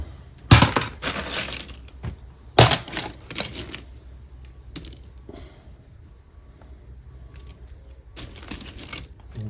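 Used Lego pieces rattle and clatter through a sieve as they are sorted, coming in several loud shaking bursts with quieter scattered clicks and tinkling between them.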